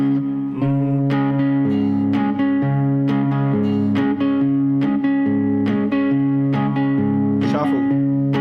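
Electric guitar playing a riff straight without shuffle, evenly picked notes over a held low bass note in a regular pulse, close and loud throughout.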